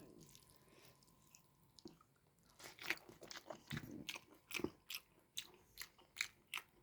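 Someone eating a hot soybean dish mixed by hand with rice, cucumber and onion: close, wet crunching bites and chewing in an irregular rhythm, growing louder after a quiet start.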